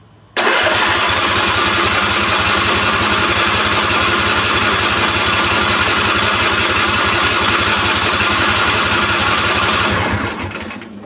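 A small engine fires up abruptly and runs steadily and loudly at a constant pace for about ten seconds, then cuts off.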